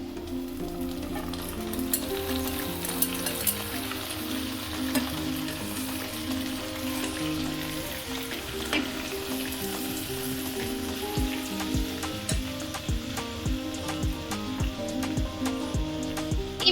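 Marinated chicken for mango chicken hits a hot pan with a loud, dense, continuous sizzle and crackle, like heavy rain, with occasional clicks and stirring knocks, no voices.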